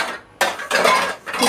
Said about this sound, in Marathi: त्यानंतर भांडी सगळी मांडणीवर रचून ठेवली.